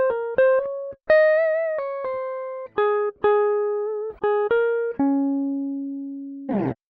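A virtual electric guitar, Shreddage 3 Hollomatic on its mellow mono lead high setting, plays a slow melodic line of single sustained notes, each picked clearly and held, loud and clean with no talking, ending on one long low note.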